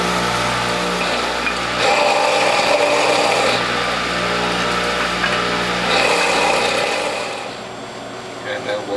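A WHF juicer grinds honeydew melon and watermelon in a loud, continuous rasping churn. The grinding swells and eases as pulp is pushed through.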